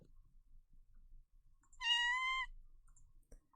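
A single short cat meow used as a video game pickup sound for collecting cats, clear and tonal, lasting about half a second against near silence with faint clicks around it.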